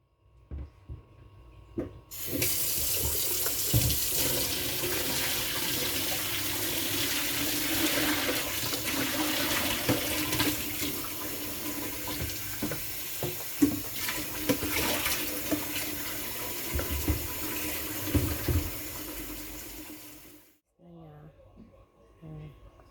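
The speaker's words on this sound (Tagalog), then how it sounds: "itapon na natin ang tubig" Water pours steadily out of a kettle into a sink in a kitchen for about eighteen seconds, a continuous splashing rush that cuts off abruptly, with a few faint clatters afterward.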